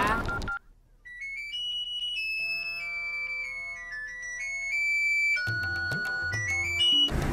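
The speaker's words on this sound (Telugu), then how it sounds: "ఒరే ఎదవా, ఫోన్ ఎత్తరా." A mobile phone plays a bright electronic melody ringtone that rises and falls in pitch. It rings clearly for several seconds, then is joined by busier background noise near the end.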